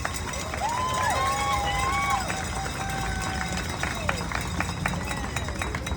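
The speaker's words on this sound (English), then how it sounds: "Let's give them a big round of applause." Outdoor crowd at a Shatterproof charity walk applauds its top fundraisers with a steady wash of clapping and cheering, scattered whistles rising over it, loud and sustained for several seconds.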